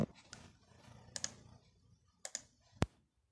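A few scattered computer keyboard keystrokes entering a Cisco switch configuration command, faint and near, with a sharper final click like the Enter key; no one speaks.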